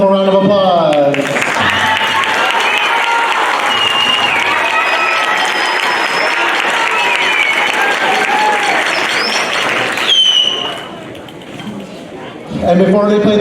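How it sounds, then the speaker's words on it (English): A school band concert audience bursts into loud, sustained applause that fills the hall for about ten seconds, then dips briefly before a voice comes back in over scattered clapping. "One more round of applause."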